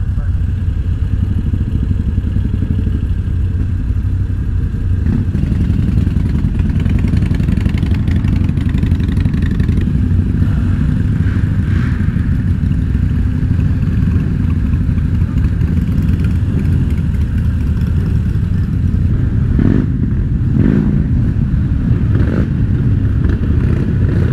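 A motorcycle engine rumbles loudly and steadily throughout, with a few sharper revs standing out over the constant low roar, at a Distinguished Gentleman's Ride motorcycle parade.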